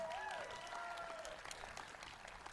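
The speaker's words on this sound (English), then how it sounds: "Let's give Kevin a round of applause, everyone." Crowd applause at an outdoor anti-discrimination rally in Bristol, Virginia, steady clapping from many people filling the whole moment, with a brief voice rising over it near the start.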